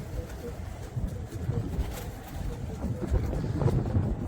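Pigeons take flight and flutter outdoors, with a low busy mix of wing beats and soft bird sounds under wind noise.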